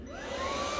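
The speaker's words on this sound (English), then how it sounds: "Hey yo, look at this vacuum." A vacuum cleaner runs with a steady, loud whirring drone, its motor pitch rising slightly as it runs, and no voices over it.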